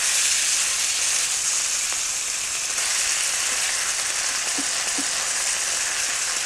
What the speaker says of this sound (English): add the marinated beef slices and stir fry for about 5 minutes